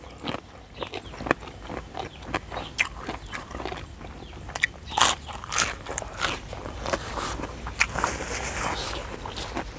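Close, crunchy bites and chewing of a spicy som tam papaya salad with cuttlefish, irregular crisp crunches in quick succession with light mouth noises throughout.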